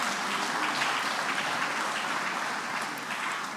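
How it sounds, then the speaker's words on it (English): Sustained applause from an audience at a public lecture symposium for Nigeria's independence anniversary, a thick, even roar of many hands clapping at constant loudness that fades only slightly near the end. "A round of applause for them again."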